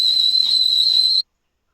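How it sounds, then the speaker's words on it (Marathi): A pressure cooker heating milk on the stove lets out one loud, steady, high whistle for just over a second, then cuts off abruptly into silence. "असं शिट्टीचा आवाज येतो आणि मला खूप आवडतं कुकरात दूध गरम करायला."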